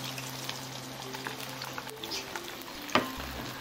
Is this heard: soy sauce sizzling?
yes